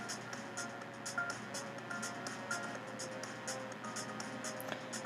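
A phone in the visual novel game Hustle Cat gives a text message notification, a run of quick, regularly spaced electronic tones over a soft background, with no talking.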